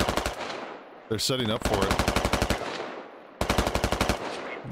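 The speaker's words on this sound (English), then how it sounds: "BTR is still blind firing into the ridgeline here" A BTR armored vehicle in the game Squad blind-firing its machine gun, loud rapid bursts in long rhythmic strings separated by short pauses, with a brief voice speaking over the fire.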